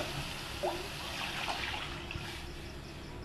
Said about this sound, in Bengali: এবার আমি ওতে একটু জল দিয়ে দেবো,